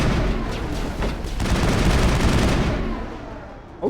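Dense, rapid gunfire in the video game Mass Effect crackles and booms continuously for several seconds, loud and close, then tapers off at the end.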